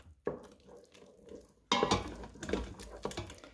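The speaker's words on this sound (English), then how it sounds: "We're just going to give it a quick stir around." A spoon scrapes and clatters against an Instant Pot while stirring risotto, with one short scrape followed by a longer, busier stretch of stirring, close and fairly quiet.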